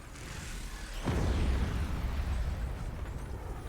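A burst of explosions and fire aboard an enemy warship in the space battle video game Battlefleet Gothic: Armada 2, with a sudden loud blast about a second in, then a sustained roaring, crackling rumble with no speech.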